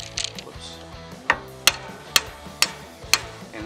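A hammer strikes a front suspension part on a 2005–2022 Toyota Tacoma during a CV axle install, with five sharp metallic whacks at a steady pace, close and loud.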